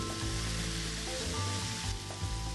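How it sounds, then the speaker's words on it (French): Vegetables stir-fried in a wok with Blue Dragon teriyaki honey sauce sizzle steadily and loudly throughout, a dense close hiss with faint soft shifts of food being tossed. "Continuez à faire sauter le tout pendant 1 à 2 minutes"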